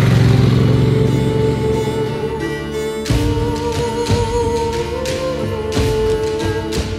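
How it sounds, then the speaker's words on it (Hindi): A motorcycle is ridden across hot Arabian desert, its engine giving a loud, close, tonal drone that dips and rises with shifts and throttle changes, with no talk. "सदगुरु के साथ मोटरसाइकिल पर बैठ गई"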